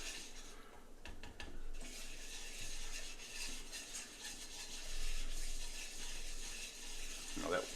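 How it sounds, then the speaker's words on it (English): A whisk works continuously through a milk and butter roux in a pan, giving a steady, close scraping and swishing texture with brief heavier strokes. "So all the time that the liquid is in the pan, you've got to keep the whisk moving"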